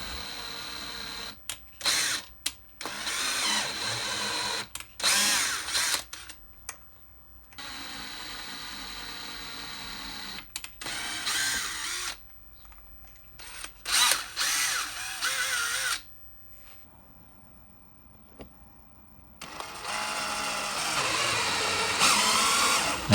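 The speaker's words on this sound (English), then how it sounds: "There we go, 2 M5 tapped holes." Two M5 threaded holes are tapped through a small lathe-turned tap guide in metal for a drill press motor mount, with loud, close bursts of power-tool whine starting and stopping repeatedly, broken by short silent gaps.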